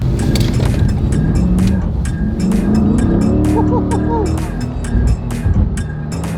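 A C8 Corvette sports car drives with a steady engine drone and revs rising and falling. Brief squeal-like chirps and rhythmic thumps come partway through, and a voice is heard briefly.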